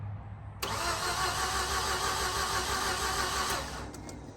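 A green automatic Mazda RX8, revived after sitting for 2.5 years, cranks and catches, then settles into a steady, loud rotary idle for several seconds before the revs ease off.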